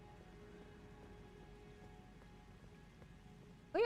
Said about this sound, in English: Oh, it's not rain at all. It's actually a huge pool of water.